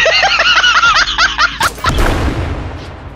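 A mine explodes in the video game Level Zero: Extraction. Voices laugh and chatter first, then a sudden loud blast cuts in and its rumble fades away.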